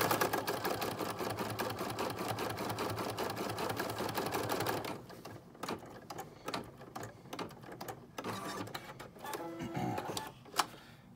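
Home sewing machine running a placement stitch, a steady rapid mechanical whir for about five seconds, then stopping and giving way to scattered clicks, handling noises and a short burst near the end.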